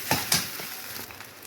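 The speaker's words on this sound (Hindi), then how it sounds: "थोड़ा सा आलू के साथ में और मसाले के साथ में दोस्तों मिक्स किया जा रहा है" Sabudana khichdi with potato and spices stirred in a pan, a steady sizzle with a couple of scraping strokes of the spoon near the start, close and alone.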